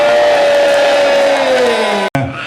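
A rock concert crowd at the Sonic Rock Solstice festival cheers loudly for a performer, the roar mixed with a sustained droning guitar tone that slides downward before a brief cut.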